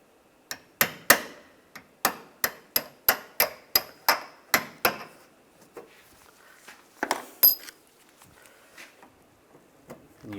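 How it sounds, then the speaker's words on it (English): Punch hammered into the center of a plastic rivet on a 2014-2019 Toyota Corolla front bumper bracket, about a dozen sharp, evenly spaced taps in quick succession, then a brief louder clatter and faint handling noises, close and clear. "Just using a punch to just punch out the center."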